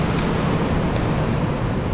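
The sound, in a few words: Kumbe waterfall water falling, heard from the top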